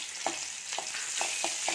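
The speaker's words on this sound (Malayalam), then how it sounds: "ഇഞ്ചി വെളുത്തുള്ളി ചേർത്ത് വേണം വഴറ്റി കൊടുക്കാം." Ginger, garlic and green chili sautéing in hot coconut oil, a steady close sizzle broken by a few regular spoon scrapes against the pan, with no voices.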